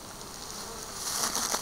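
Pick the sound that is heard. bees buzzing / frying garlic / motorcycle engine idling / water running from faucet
bees buzzing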